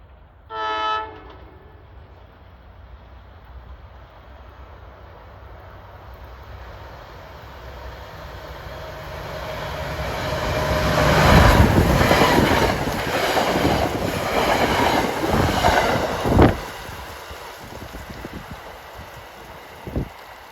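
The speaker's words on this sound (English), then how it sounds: "approaching at 5:07. This should be train 643, a Hoboken to Dover" An Arrow MU electric commuter train bound from Hoboken to Dover approaches Mountain Station on an autumn evening, opening with a short horn blast, then a rising rumble and rhythmic wheel clatter as it nears and passes close by.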